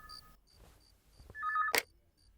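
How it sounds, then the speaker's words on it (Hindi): A telephone rings once as a short, bright electronic trill in a quiet room, preceded by faint background noises and a soft tonal chirp. "वो फोन देखो"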